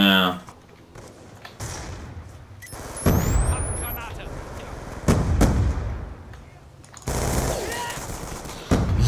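Bursts of automatic and single gunfire from the Call of Duty: Black Ops 2 video game come in several loud, sharp clusters separated by quieter gaps, with voices talking over parts of the action.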